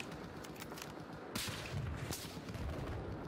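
Gunfire in the Battlefield 4 video game pops in quick bursts, with sharper cracks standing out over a busy, moderately loud battle din and no talking.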